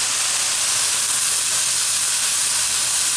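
Diced Thai chili peppers hitting a hot pan, a loud, continuous bright sizzle and hiss that holds steady close up with no talk.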